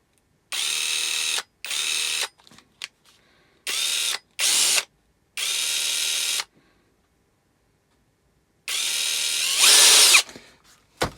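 An Aldi £30 40V combi drill runs in repeated short bursts, loud and close, whirring for about a second at a time between silences, with one longer run that rises in pitch near the end.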